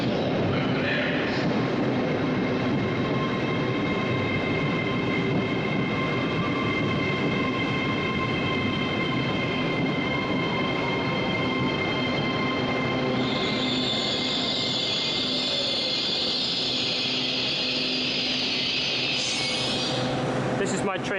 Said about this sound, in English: This is my train home to Durham.